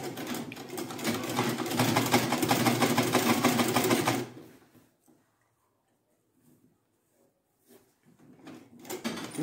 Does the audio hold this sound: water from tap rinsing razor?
no